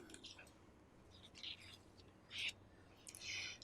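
Small birds chirp in short, bright bursts that come and go over a faint, quiet background, with no talk.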